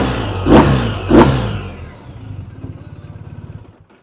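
A standard-engined, low-mileage 2023 BMW R1250RT motorcycle, red and black two-tone, gives two sharp, loud revs close by, then settles into a throbbing idle that fades out.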